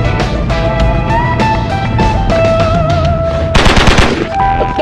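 Gunfire from a crime-comedy movie trailer: bursts of shots cracking over a loud, dense soundtrack with sustained tones, the heaviest rapid volley near the end.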